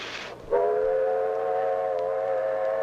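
A steam train whistle blows one long, sustained blast with a rich harmonic tone, following a short burst of hiss, loud and fairly close.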